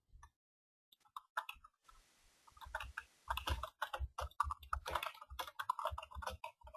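T-SQL code is typed on a computer keyboard in close, crisp clicking keystrokes, first sparse and then in quick, dense runs.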